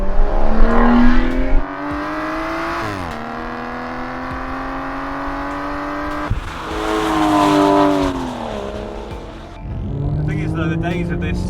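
An Aston Martin DB9 GT's V12 engine revs and pulls through gears, its tone climbing smoothly, dropping at each shift and rising again, loud and close, with someone speaking over parts of it.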